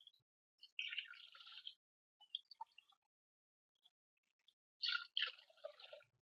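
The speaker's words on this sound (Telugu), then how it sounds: "ఇప్పుడు రెండు గ్లాసులు వాటర్ పోద్దాం" Water pours into a pan in a few short, trickling bursts while making semolina pulihora, each brief and separated by silence, heard close up and quietly.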